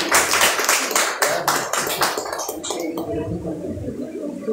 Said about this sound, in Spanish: la señorita Flor Sanpedrana, Marlene Monroy, a quien recibimos con un fuerte aplauso